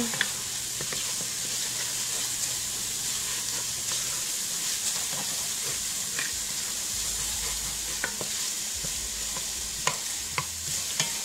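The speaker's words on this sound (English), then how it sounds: "You just want the onions to start releasing a lot of their own juices to mix in with the grease of the bacon that's still in the pan" Onions sizzle steadily in bacon grease in a pan, a continuous close frying hiss with occasional light ticks and pops from stirring, and nobody speaks.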